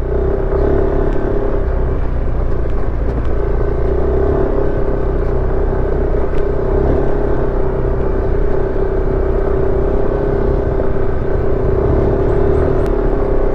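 Yamaha NMAX scooter engine pulls uphill on a test ride, giving a steady, continuous drone and rumble under wind noise for the whole stretch, fairly loud and unbroken, with no speech.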